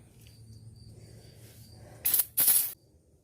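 Two short, loud hissing bursts of aerosol brake cleaner sprayed onto a car wheel hub, one right after the other, close by and standing out against a quiet background hum.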